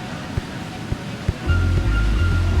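Ocean surf at crowded, hot Ipanema Beach in Rio de Janeiro, a low steady wash with a few soft thumps, swelling into a louder rumble with wind noise toward the end.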